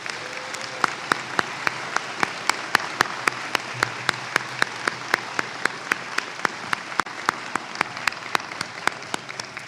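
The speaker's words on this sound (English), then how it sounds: "All PHSC faculty and staff, please stand and let's give them a round of applause." Commencement audience applauds faculty and staff in a large hall, a dense sustained wash of clapping with many distinct individual claps standing out in a steady rhythm.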